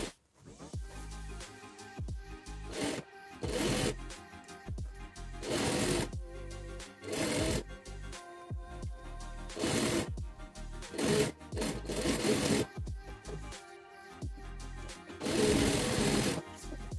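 A sewing machine stitches around the edge of a child's backpack in repeated bursts of close, loud whirring, separated by brief pauses and the rustle of fabric being turned.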